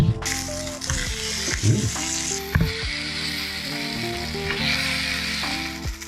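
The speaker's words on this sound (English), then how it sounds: "We now have a couple of burgers on the go." Thick burgers fry in a pan with a loud, steady sizzle and crackle, punctuated by a few sharp clinks and scrapes of a utensil against the pan.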